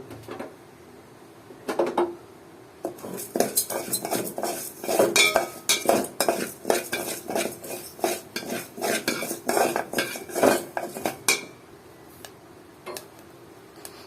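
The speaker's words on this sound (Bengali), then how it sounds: "প্রথমে আমার অল্প কিছু চাল লাগবে ভাজার জন্য" Metal utensil scraping and clinking against a pan in quick, irregular strokes, close by, as a little rice dry-roasts; no voices.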